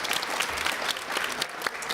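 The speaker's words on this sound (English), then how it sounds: "I would like to ask audience to applaud to our outstanding speakers." An audience applauding speakers at an entrepreneurship education event, dense sustained clapping from a crowd, steady and fairly close throughout.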